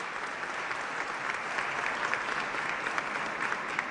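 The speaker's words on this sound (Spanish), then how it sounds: "Desde acá podemos rendir un tributo, un aplauso para ellos que hicieron posible esta realidad" Steady applause from a church audience at a national evangelical and Protestant churches day ceremony in Chile, a dense continuous wash of many hands clapping at even volume, with no voices standing out.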